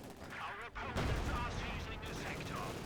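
Panzer IV tank cannon and gunfire in Company of Heroes 2 hitting combat engineers: booming shots and chattering fire in a dense battle mix, with a commentator voice running underneath.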